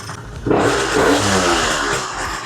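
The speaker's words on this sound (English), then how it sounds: "It's revving really fast, which is a good sign." A small scooter engine converted to pre-mix fuel with its oil pump removed idles, then revs up sharply and holds a fast, buzzing high-rev drone, loud and close, with slight pitch wavering.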